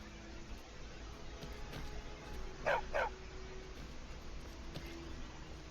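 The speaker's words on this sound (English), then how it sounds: "Poor dog." A dog barks twice in quick succession in the video game Skyrim, a fairly faint, close yelp over steady ambient game background.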